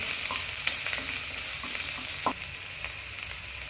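Half a small spoon of cumin seeds frying in oil for poha, lightly browning with a loud, continuous close sizzle and a few small crackles and pops, no voices.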